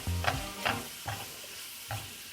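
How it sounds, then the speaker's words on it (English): Chopped tofu used as an egg substitute sizzles in hot oil in a pan, with four distinct scraping stirs of a utensil in uneven rhythm over a steady low frying hiss. "we're going to move these around and kind of coat it in the oil"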